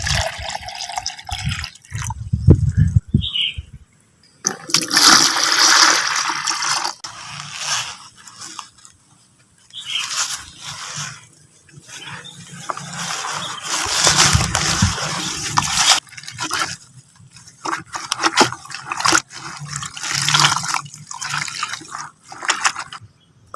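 About a liter of water poured and sloshed into a container while mixing a homemade pesticide, heard as several intermittent splashing, trickling bursts separated by short pauses, close and moderately loud.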